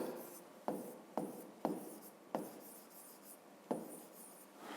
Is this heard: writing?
yes